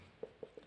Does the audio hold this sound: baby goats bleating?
no